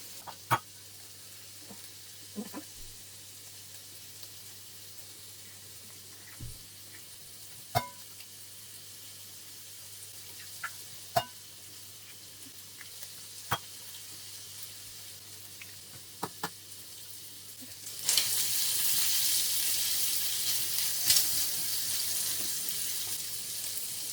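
Bacon fries in a pan, rendering its fat, with quiet kitchen clatter and occasional clinks before a loud, steady sizzle surges in during the final seconds.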